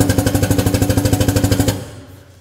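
An ATEX power clamp drum tipper runs its pneumatic clamp with a loud, rapid, even pulsing chatter of about twenty beats, close and unbroken, then stops sharply and leaves a fading hiss.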